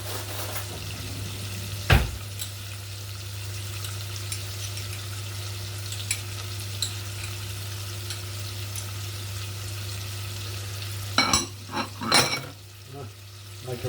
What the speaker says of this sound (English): we keep stirring this, stir it round.